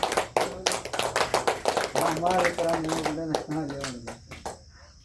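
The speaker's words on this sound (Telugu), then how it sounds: "చప్పట్లు కొట్టండి ఒకసారి" A church congregation at a Sunday service claps in a brisk, even rhythm of many hands, loud and close. Singing voices join partway through, and the clapping thins out near the end.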